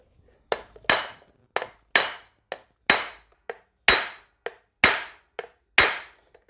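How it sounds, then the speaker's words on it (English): A hammer strikes a 50mm bearing driver to seat a bearing in a Toyota Land Cruiser swivel hub, sharp metallic blows landing one by one in an uneven rhythm, about a dozen close hits that ring briefly. "we're going to be able to use that to drive the bearing all the way to the end"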